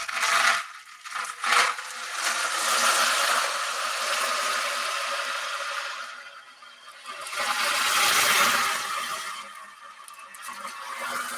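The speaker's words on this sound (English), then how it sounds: "I use this drum to sound like an ocean" An ocean drum is tilted back and forth, its loose beads rolling in long hissing swells that rise and fade like waves washing in and out, heard alone and fairly close.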